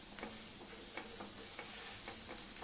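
Thalipeeth of green moong and jowar, oiled and just flipped, roasts in a pan with a soft steady sizzle and a few light ticking clicks spaced through, alone with no one talking.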